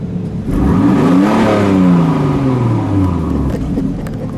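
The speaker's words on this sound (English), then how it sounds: "Go ahead, give it a rev." A black 1998 Toyota Supra Turbo engine rises in a single strong rev, its pitch climbing and then sliding back down to a steady rumble, close and loud.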